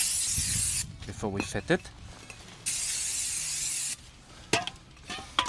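Brake cleaner hisses from an aerosol can onto a new brake disk of a Dacia Duster in several long bursts, with short pauses and someone speaking between sprays.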